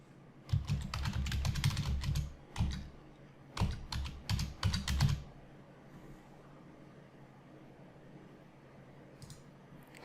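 Someone types a folder name on a computer keyboard: two quick bursts of close, crisp key clicks, a single tap between them, then near silence.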